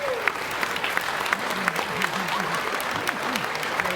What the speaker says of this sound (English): I want you to give him a big applause